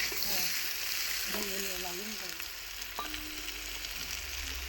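Potatoes frying with salt and turmeric on a wood-fired clay stove give a steady close sizzle, with a few brief voices talking over it.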